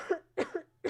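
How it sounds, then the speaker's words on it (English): Three or four short, dry coughs in quick succession, close and clear, with brief silences between them. "Excuse me, I have to cough."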